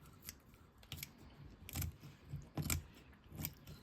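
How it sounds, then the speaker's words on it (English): Scissors snip into a sunfish during taxidermy skinning, giving five or six short, crisp cuts at irregular intervals, close and fairly quiet, with no talking. "Then what I want to do is I want to cut in underneath here."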